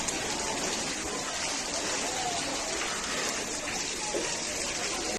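Heavy rain pours over Hyderabad streets, a dense, continuous wash of hiss and splatter that stays steady and fairly loud throughout, with no clear voices.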